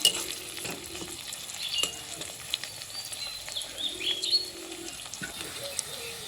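Capsicum and carrot frying lightly in a pan, with a steady soft sizzle broken by occasional spatula stirs and scrapes, heard up close, while a bird coos faintly in the background.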